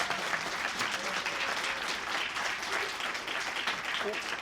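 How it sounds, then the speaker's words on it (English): A lecture audience applauds at a university history course on the Santa Fe Trail, with sustained, moderately loud clapping from many hands and some faint voices mixed in. "Let's give Lily a round of applause"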